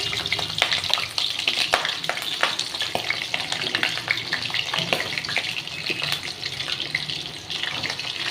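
Pointed gourd fries noisily in hot oil, a close, steady sizzle broken by scraping and clattering as the pieces are stirred.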